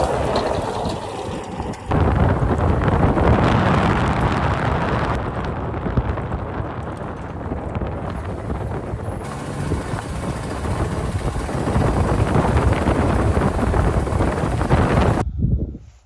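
A semi truck pulling a trailer drives down the road with a heavy, continuous rumble, and strong wind buffets the microphone throughout. The noise cuts off abruptly near the end.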